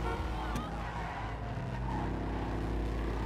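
A car engine in the video game GTA 5 Online roars loudly and continuously, its pitch rising and falling as it revs, with a brief tire squeal or skid near the start.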